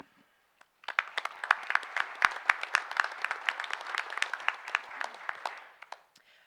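Applause at a higher education board meeting, a modest room of people clapping steadily for several seconds after a brief quiet start, moderately distant.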